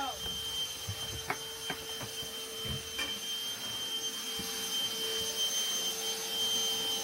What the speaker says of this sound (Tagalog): Nag-vacuum na si Sak.